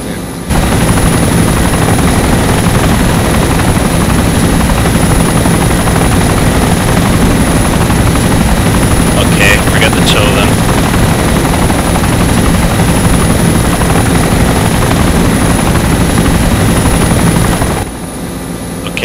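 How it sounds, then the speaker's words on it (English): Helicopter in a military video game, its rotor and engine roar loud, dense and unbroken for nearly the whole span with no talk over it, cutting out abruptly near the end. "there's a helicopter right there."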